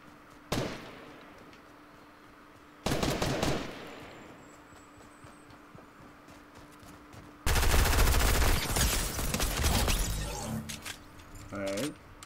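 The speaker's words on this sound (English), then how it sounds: "Start shooting." Bursts of gunfire in the video game Fortnite, with rapid shot volleys in several loud stretches separated by quieter gaps, with game sounds layered in between.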